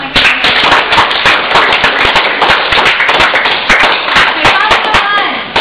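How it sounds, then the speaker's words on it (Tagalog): Loud, steady applause from a room full of people, dense clapping continuing without a break. "Sige, bigyan natin ng palakpak."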